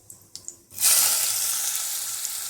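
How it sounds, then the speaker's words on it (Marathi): Onion and tomato hit hot oil with bay leaf for a tempering, bursting into a loud, steady sizzle after a few light taps, the frying hiss holding strong and close to the end. "बघू शकता फोडणीला कसा आवाज येतो, झणझणी."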